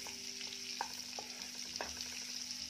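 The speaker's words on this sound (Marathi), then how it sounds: "तर इथे मी बटर आणि तेल गरम करून घेते। तर हे पहा, बटर टाकल्यामुळे याला असा फेस आलेला आहे।" Butter and oil heating together in a pan, a steady soft sizzle with faint foaming crackle and a few light taps, close and quiet.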